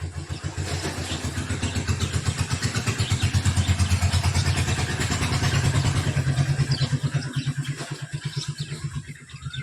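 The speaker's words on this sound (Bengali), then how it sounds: "গাড়িগুলো না এত আওয়াজ না কথা শোনা যায় না" A nearby motor engine chugs in a rapid, steady rhythm, loud and rough, swelling slightly before easing off at the end.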